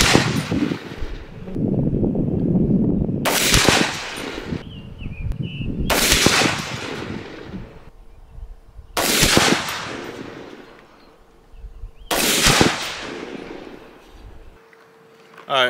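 Sig 716i rifle firing various ammunition rounds outdoors: four loud, sharp gunshots spaced about three seconds apart, each with a short echoing tail, with quiet background noise between shots.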